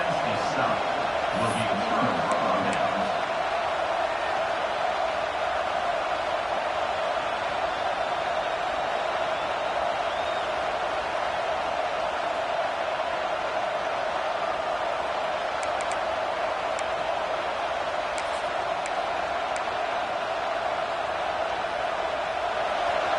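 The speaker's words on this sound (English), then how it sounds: "Listen to the crowd energy here in the early going." A steady, dense roar of a large stadium crowd cheering at a Buckeyes vs Bruins football game after a fourth-down defensive stop, continuous and loud throughout with no clear breaks.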